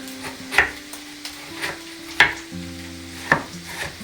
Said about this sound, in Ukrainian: Буду підсмажувати їх разом з цибулькою